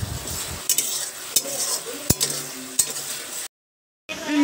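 Spice masala for a bottle gourd dish frying and being stirred in a pan, with loud steady sizzling and scraping utensil clinks, ending in a brief silence before the sizzle resumes.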